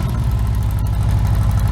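Harley-Davidson Twin-Cam motorcycle engine fitted with a 2-into-1 exhaust and aftermarket air cleaner, running with a steady deep low-end throb and loud continuous rumble from close by, no talking.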